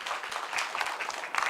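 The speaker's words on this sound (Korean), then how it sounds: "뜨거운 박수로 강의를 청해 듣도록 하겠습니다" Brief audience applause welcoming a lecturer on cancer, a short burst of scattered clapping from a modest crowd, moderately loud and uneven.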